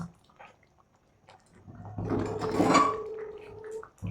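Sardine curry being stirred in a cooking pot, with a burst of scraping and clinking from about two seconds in, loudest near the middle and fading before the end.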